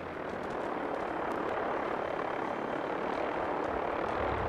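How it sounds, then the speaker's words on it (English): Helicopters flying in the video game Fallout 4, a steady broadband rotor and engine roar that holds at moderate level throughout, with no talking. "Why am I hearing copters?"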